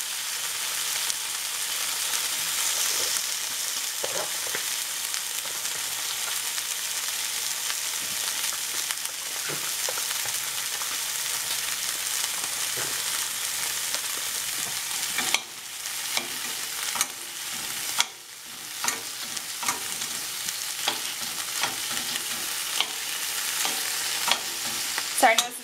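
Chopped tofu frying in a pan while being stirred, a steady close sizzle throughout with scraping and clattering stirring strokes that grow more frequent toward the end, no talk.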